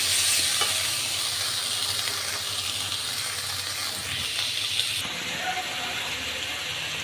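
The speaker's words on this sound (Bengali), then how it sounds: "মশলা কষানোর জন্য একটু জল দিয়ে দেব।" Spices frying in a pan hiss and sizzle loudly as a little water is added for a fish curry with potato and eggplant, a continuous steamy crackle up close.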